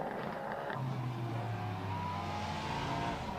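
A Ford Coyote 5-litre V8 race car at the Estoril circuit, its engine note rising and sustained in a smooth, fairly distant drone that fills the clip, without any talk.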